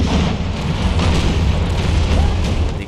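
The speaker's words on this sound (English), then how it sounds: "battles of this day and age seem to usually start with a prolonged artillery duel" Heavy artillery rumbles in a War of Austrian Succession battle game, a dense continuous wash of low booms and overlapping blasts during the opening cannon duel, loud and sustained.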